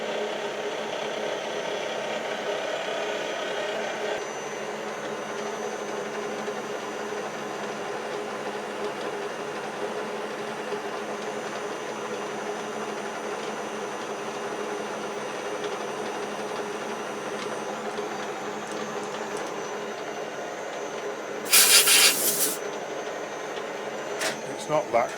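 A Jones & Shipman 540 surface grinder taking a 1 mil cut, giving a steady, even mechanical drone that runs throughout, with a brief harsher burst near the end.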